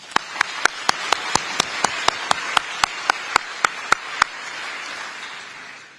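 At a business dinner held by the American Chamber of Commerce in Taiwan, about fifteen sharp, evenly spaced claps ring out close and loud over roughly four seconds, then stop and leave only room noise.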